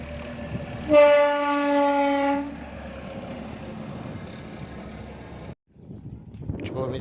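A long freight train of about fifty to sixty wagons rolls past with a steady low rumble, opening with a loud, sustained horn blast of roughly a second and a half, then continuous clattering that briefly drops out before resuming.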